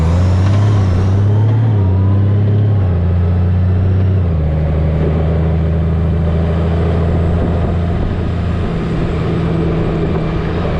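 Honda Goldwing GL1800 touring motorcycle on the move, its engine a steady loud drone with a low hum that shifts pitch in the first few seconds as it changes speed, then holds steady under continuous wind and road noise.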